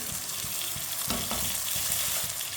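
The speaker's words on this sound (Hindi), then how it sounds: "टमाटर को 2-3 मिनट के लिए पका लेंगे।" Chopped tomatoes, green chilies, garlic and ginger fry in a pan for a sabji, giving a steady close sizzle broken by scraping stirs, with no talking.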